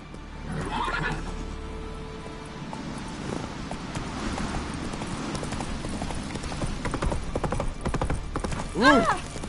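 Roach, the horse in The Witcher 3, trots with a steady rhythmic clip-clop of hooves, a whinny near the start and a loud neigh near the end, with faint game voices in the background.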